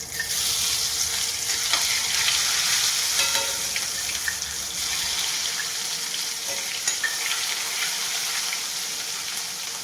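Chili-garlic chutney sizzling in a hot pan for a buttermilk-tempered bajra rotla dish, a steady close frying hiss with scattered crackles and spatters and no talk.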